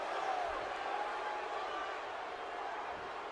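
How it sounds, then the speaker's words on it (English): An arena crowd in the wrestling video game WWE 2K17 boos during a women's match, a steady, dense roar of many voices that holds at an even level throughout. "this crowd booing the Queen"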